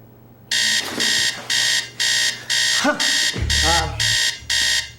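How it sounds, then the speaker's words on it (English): A loud electronic alarm beeps in a steady repeating pattern, about eight even pulses, with faint low background sounds underneath. "That's the alarm."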